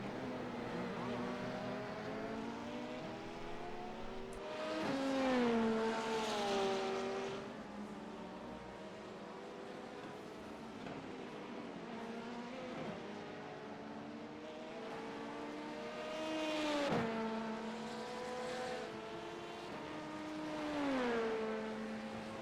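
A Porsche GT3 race car engine in an IMSA racing video game drones steadily, its pitch rising through gears and dropping under braking, with several clear upshift sweeps and downshifts.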